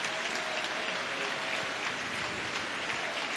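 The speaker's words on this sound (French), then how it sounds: "La sortie sous les applaudissements d'Alan Minda." A stadium football crowd applauds Cercle Brugge player Alan Minda as he is substituted off, a steady, dense wash of clapping heard from a distance without a break.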